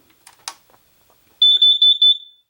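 A few faint clicks, then a loud, high-pitched electronic beep from a carbon monoxide detector that pulses rapidly for about a second before cutting off, close and clear.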